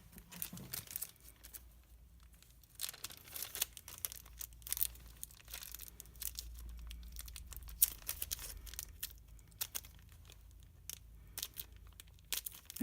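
Close-up crinkling and rustling of a plastic bag holding a magnet in irregular bursts, with sharp crackles and brief quiet gaps between handling movements.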